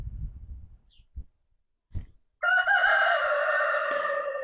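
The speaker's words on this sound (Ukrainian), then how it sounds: "Це ці славетні, прославлені на всю Україну півні півні із села Кіблич." A rooster crows loudly and close by in one long, drawn-out call after a few low thumps and rustles.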